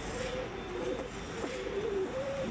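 A pigeon cooing low and steadily at close range, a soft repeated rolling call with no talk over it.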